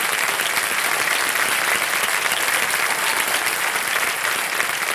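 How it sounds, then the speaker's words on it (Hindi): Loud, dense studio-audience applause for a contestant on a televised quiz show, steady and continuous from start to finish with no talk over it. "जोरदार तालियां बज जाए उनके लिए।"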